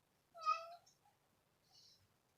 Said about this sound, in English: make that cat hush, please